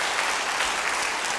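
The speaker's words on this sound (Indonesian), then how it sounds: "Yang percaya beri tepuk tangan bagi dia." A church congregation applauds during a sermon, giving a loud, dense, steady roar of clapping from many hands that fills the space evenly, with no speech on top.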